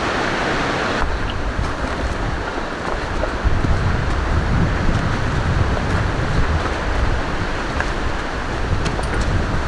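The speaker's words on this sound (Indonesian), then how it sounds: "anginnya kerasa kencang nih kalau di jalur-jalur terbuka kayak gini" Strong wind buffeting on an open mountain trail, a loud continuous roaring rush that blows across the microphone without letup.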